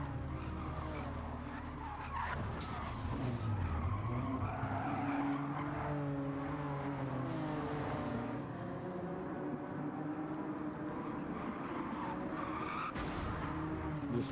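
In Gran Turismo 7, a race car brakes hard and skids on dirt, a long loud tire squeal and scrubbing slide with engine noise running through it.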